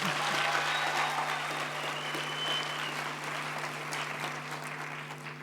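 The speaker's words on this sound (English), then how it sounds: "So please, once again, give them another round of applause" Broad, even applause fills a hall during a university graduation ceremony, a sustained wash of many hands clapping that fades slightly toward the end, with a steady low hum underneath.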